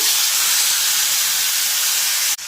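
Raw mango pulp poured into hot oil spiced with coriander seeds, mustard seeds and fennel makes a loud, continuous steamy sizzle close by, holding steady for about two seconds before a sharp break near the end.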